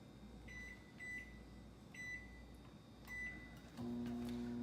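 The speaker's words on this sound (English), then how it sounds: "we're going to microwave for 2 minutes and 30 seconds" A microwave oven hums steadily while popping popcorn in a paper bag, with a few faint beeps spaced across the clip, then its drone gets louder and lower near the end.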